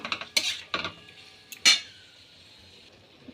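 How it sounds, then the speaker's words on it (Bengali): A spatula stirs tomato chutney with turmeric in a pan, giving a few sharp metallic clinks and scrapes spaced out, then a quiet stretch. "দেওয়ার পর আমরা একটু ভালো করে খুন্তি দিয়ে এটাকে একটু চালিয়ে নেব।"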